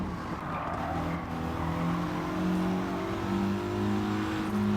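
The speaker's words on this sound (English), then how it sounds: "run the car to its limiter, then we are gonna shift" Gran Turismo 7 Gr.4 Evo race car in the video game, engine revved to the limiter: sustained rising engine whine with harmonic tones climbing, brief dip at a shift, loud and steady without talk.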